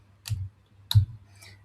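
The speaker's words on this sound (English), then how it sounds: "So I click on save prompt" Two crisp mouse clicks about half a second apart, close and quiet, followed by a fainter click, against near silence.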